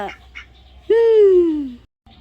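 A single drawn-out duck quack, loud and nasal, falling in pitch, follows brief faint sounds and ends in silence.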